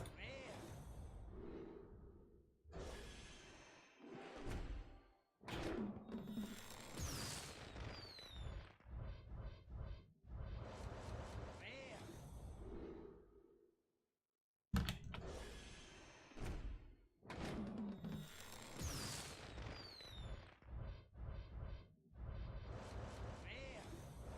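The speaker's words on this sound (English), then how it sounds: "Nice fireworks." Hearthstone pack-opening fireworks effect from the Rastakhan expansion, bursts of crackling, whooshing pops in repeated loud clusters with brief gaps, a video game sound played on its own.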